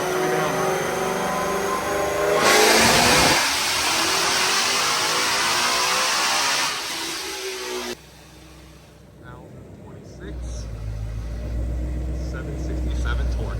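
A powerful Shelby Mustang engine, making 1,026 horsepower to the wheels, roars loudly as it accelerates hard, then cuts off abruptly, leaving a low rumble and some background voices.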